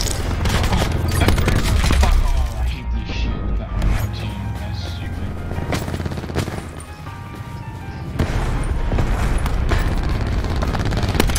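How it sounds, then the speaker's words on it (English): Constant gunfire from Black Ops 4 multiplayer rattles on, loud overlapping shots and bursts running throughout, with a player talking over the shooting. "they just never stop shooting, bro"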